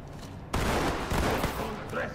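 Sustained gunfire bursts in the tactical shooter Ready or Not, a loud dense volley starting abruptly and rattling continuously with a few sharper peaks.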